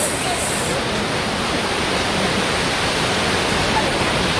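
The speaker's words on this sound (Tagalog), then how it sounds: "we're here in a big falls." Akiu Falls (Akiu Otaki), a large waterfall in Japan, gives a steady, dense roar of falling water. The rush is broadband and continuous, with no breaks.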